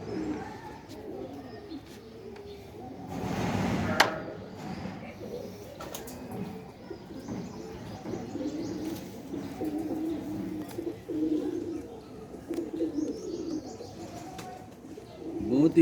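Ali wala pigeons cooing at a home loft, soft low coos repeating throughout under steady background noise, with a brief louder burst near the start.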